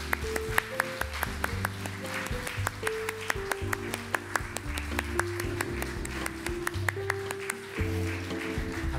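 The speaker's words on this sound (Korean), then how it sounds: "박수로" Church congregation claps during a Sunday service while new-member course graduates receive gifts. Crisp, regular claps are heard over soft keyboard music, fairly quiet and evenly paced.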